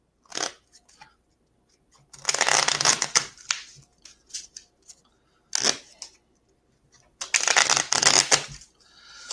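Playing cards are riffled and shuffled in several quick crisp bursts, each a dense flutter of snapping cards, separated by short quiet pauses.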